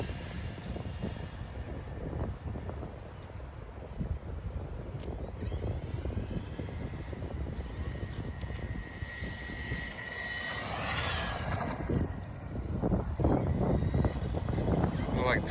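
A 1998 Tamiya Mercedes CLK GTR RC car makes a top speed run, its electric motor whining and rising in pitch as it passes, heard under wind noise with a person talking nearby.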